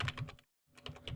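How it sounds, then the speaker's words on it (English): Fingers tap out a password on a computer keyboard, a quick run of close, crisp key clicks, a brief pause, then another burst of keystrokes, with no talking. "Then type in your password"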